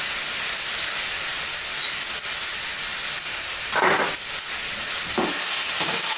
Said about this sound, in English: Stir it up, stir it well. The pineapple will also be roasted in here.